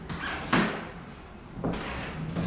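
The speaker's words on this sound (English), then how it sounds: "So let's shut the bedroom door." A bedroom door swings and shuts in a house, giving two soft knocks with a muffled thud, close by and alone without talk.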